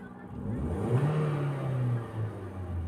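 A 2012 Toyota Vios engine that lacks pulling power revs up from idle into a rising, sustained whine, then eases back down, heard close up.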